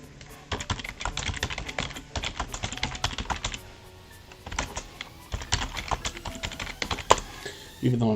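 Bursts of clicky typing on a computer keyboard, rapid uneven keystrokes in clusters with short pauses, fairly close, ending with a brief louder thump.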